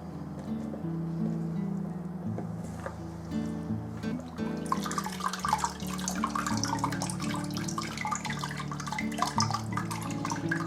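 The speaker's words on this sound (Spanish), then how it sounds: "vamos a introducir este bastidor en el agua" A papermaking frame dipped and stirred through water with recycled paper pulp, steady sloshing and splashing that grows busier midway, with a soft musical backing underneath.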